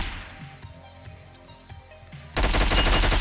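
Assault rifle fire in the top-down action game Hotline Miami 2 breaks out as a loud sudden burst of rapid shots after a stretch of quieter thumping game music.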